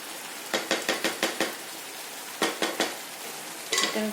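A lid set onto a pan of frying boal fish after a little water is added, a run of quick light clinks and taps, close, in two bursts and a final rattle over faint sizzling.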